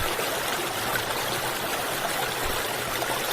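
A mountain valley stream near Geumdang Valley flows in a steady broadband rush of water, close and constant, with no voices.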